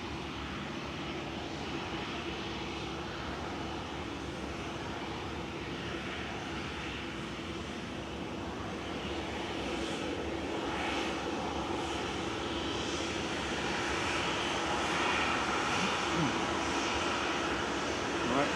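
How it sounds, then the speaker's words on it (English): A Boeing 747 passes overhead near Manchester Airport, producing a steady, distant jet roar that swells slightly toward the end. Faint talk may be present. "If you're in Stockport, look up to the sky because the 747's just gone past."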